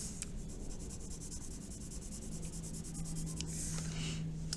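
A pencil shades on paper with light pressure, giving a steady, soft scratching and rubbing close by that continues without a break.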